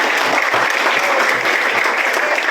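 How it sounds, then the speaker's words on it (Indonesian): Steady, loud applause from a group at a community health center outreach session, many hands clapping continuously without pause. "Oke, tepuk tangan buat kita."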